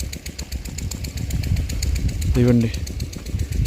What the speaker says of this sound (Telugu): ఇదిగోండి ఇక్కడ ఒక ఇంజిన్ ఉంది.